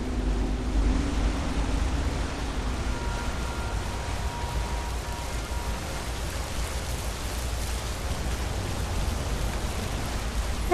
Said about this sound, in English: This seems like a waterfall.